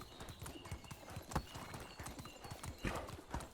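A horse gallops in the Medieval Dynasty video game, its quick hoofbeats a steady rhythmic clip-clop, close and moderately loud, with no talk over it.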